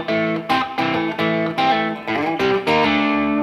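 A loud, close, heavily distorted electric guitar plays a section of a riff at full tempo, with quick chugging notes and slides running together in a fast stream.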